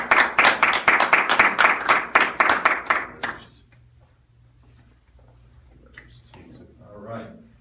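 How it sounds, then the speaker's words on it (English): Short round of applause after a US Navy swearing-in, brisk clapping from a small group for about three seconds, then a quiet room with faint voices. "let's give them a round of applause"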